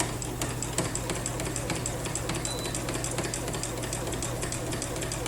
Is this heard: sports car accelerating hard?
no